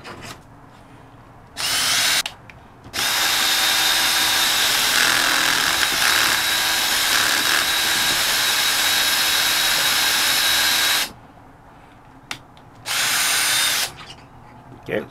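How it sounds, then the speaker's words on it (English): A Porter Cable drill with a Kreg jig runs in a short burst, then in one long sustained drilling pass into wood, followed by another short burst, loud and close with brief quiet gaps between. "get this little Porter cable drill I've got here. Put in this bit."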